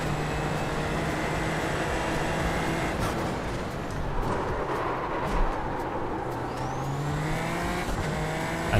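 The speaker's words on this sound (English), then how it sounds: "I mostly just use the sound of the other cars." Multiple race car engines from rival cars in a racing sim, a steady close drone of revving and shifting with engine notes rising and passing, no voices.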